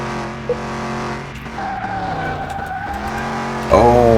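A car engine in the Car Mechanic Simulator 2021 driving game revs loudly with rising and falling tones and a tire squeal. It ends with a sharp surge of acceleration.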